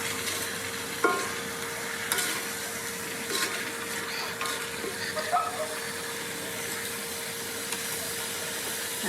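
Chicken curry being stirred in a pan, with a soft steady sizzle and scraping sounds of a utensil moving through the food, plus a faint constant hum in the background.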